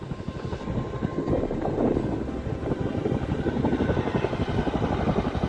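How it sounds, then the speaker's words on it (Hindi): A military helicopter's rotor thumps steadily with a loud, continuous engine drone, close by and sustained throughout, with no talking. "ये मिलिट्री मिलिट्री हेलीकॉप्टर है ये।"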